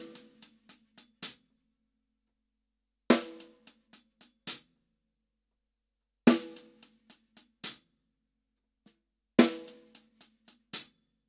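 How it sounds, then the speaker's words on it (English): Snare drum and hi-hat trade a quick triplet figure, played four times in short, crisp bursts with clean silence between each phrase, close and moderately loud. "So what I'll do is play that with the left hand starting on the snare drum. All the other notes are on the hi-hat."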